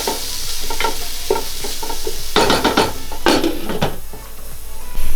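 Beef curry with tomato and coriander in a pot gets a vigorous mix, a spoon scraping and clanking against the metal over a soft sizzle, then a lid clatters shut at the end, loud and close with no talking.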